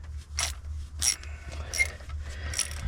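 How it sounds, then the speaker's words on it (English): Ratchet and socket working on the carburetor of a 1979 Ford F150, with short bursts of metallic clicking and scraping about a second apart, close up over a low background hum, no voices. "It'd be cool if I could get a ratchet on, a socket on here."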